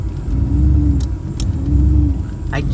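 Engine of a Fox Body car with an LS swap idles roughly nearby, a loud low rumble that swells and sags unevenly as if struggling to stay running.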